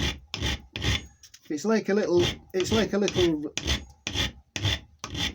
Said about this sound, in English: just file off the top of the plug like so